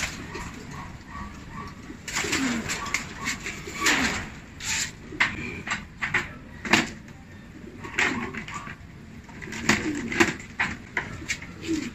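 Racing pigeons bred for a derby race coo inside a loft, giving repeated soft throaty coos and rumbling calls close by, with light shuffling and knocks in between.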